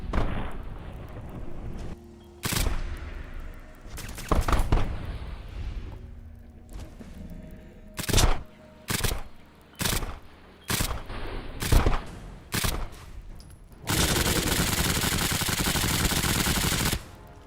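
Shotgun blasts of rat shot ammunition in Fallout 4, a string of sharp, loud bursts at uneven intervals, followed by a dense, sustained roar of rapid fire for the last few seconds.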